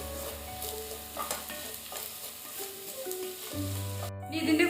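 Garam masala is stirred into a frying Kerala-style beef curry masala, with a soft continuous sizzle under repeated scraping and stirring strokes that grow louder toward the end.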